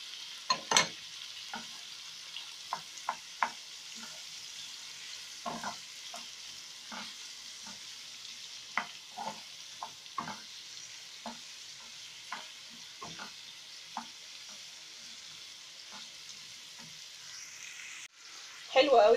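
Vegetables seasoned with salt, black pepper and chili sautéing in a pan, a faint steady sizzle with light scraping stirs at irregular intervals, close by and quiet.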